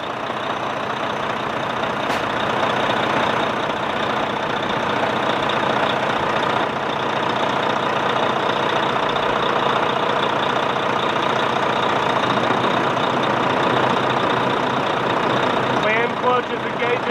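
A stock Volvo truck engine idles steadily after start-up, a continuous close rumble holding an even level for the whole stretch with no revving, ending with a faint rattle.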